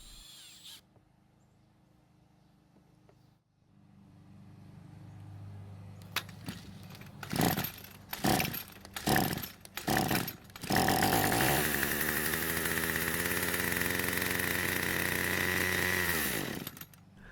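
A Snapper string trimmer, its engine flooded, is pull-started with several sharp rope yanks that sputter, then catches and runs at a loud, steady buzzing idle for several seconds before cutting off, close up and without talk.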